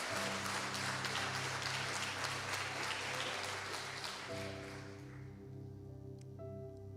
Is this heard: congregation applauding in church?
yes